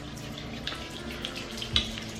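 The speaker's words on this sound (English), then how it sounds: "Wait, but you need a little bit of water" A bathroom tap runs onto hands during a nighttime face-washing routine: a close, steady trickle with small splashes and one brief louder splatter near the end, no voices.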